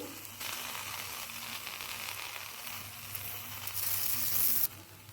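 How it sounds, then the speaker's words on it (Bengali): Vegetables for a Bengali neem jhol (neem sukto) with tender neem leaves fry in a pan with a steady, close sizzle that swells louder near the end, then cuts off abruptly. "আরও এক মিনিট ভেজে নেব সবজিটা"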